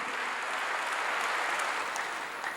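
Congregation clapping in praise to God during a church sermon, a dense, steady wash of hands applauding together for a few seconds, fairly distant and even in level.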